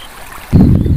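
Water of the Thaligram Madhura River in Cachar, Assam, a brief close rushing splash that suddenly surges loud halfway through, like a stream being waded across, with no talking.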